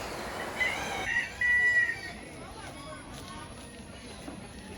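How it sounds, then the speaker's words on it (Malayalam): A chicken in the Shevaroy Hills of the Eastern Ghats near Yercaud, Salem, gives a short crowing or clucking call early on, then fades under steady outdoor background noise while someone talks. "ഇതൊരു കോഴിയാണ്. കാണാൻ നല്ല രസമുണ്ട് ഈ കോഴി കാണാൻ."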